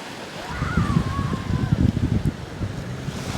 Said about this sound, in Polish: Ocean jest dzisiaj bardzo spokojny.